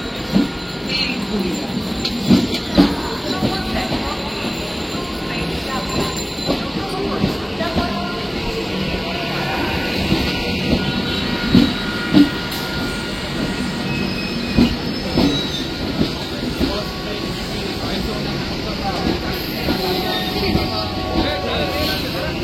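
The new Bairabi to Kolkata inaugural special express passenger train running, a loud steady rolling rumble with rhythmic wheel clicks over rail joints and occasional squeals, while someone talks over it.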